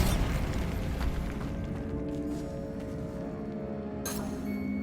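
A Bombarda spell explosion in the video game Hogwarts Legacy: a broad, rumbling blast that opens loudly and decays, followed by a sharp burst a few seconds later.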